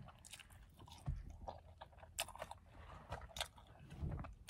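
Someone munches White Castle fries close to the mic, a quiet run of soft bites and crunchy chews with small wet mouth sounds and pauses between bites.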